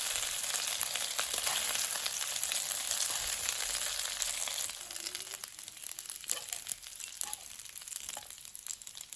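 Chicken for honey garlic chicken fries in a pan with a steady, close crackling sizzle that eases slightly partway through, with scattered sharper pops and no voices.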